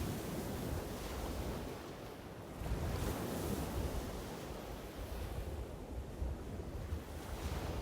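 Ocean waves wash in steady, rolling surges with soft hiss and low rumble, a continuous close-up surf sound rising and falling gently with no voices over it.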